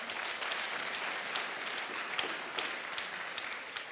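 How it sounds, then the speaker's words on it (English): A church congregation giving a hand clap: dense, continuous applause from many people, sustained and even for the whole stretch, moderately loud and filling the room. "Come on, give God a mighty hand clap."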